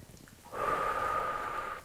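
A woman breathes in and then holds her breath during a strength and balance workout; a single long, steady breathy hiss sustains close to the microphone for over a second after a brief quiet start.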